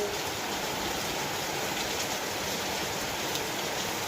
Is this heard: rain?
yes